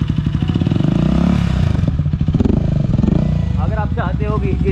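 A Kawasaki H2 motorcycle with an aftermarket exhaust revs loudly up close, its deep, rapid pulsing roar rising and falling, while someone talks excitedly over it.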